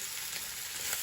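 Ground beef, a fattier 80-20 blend, cooks in a pan with a quiet, even sizzle that holds steady for a brief moment.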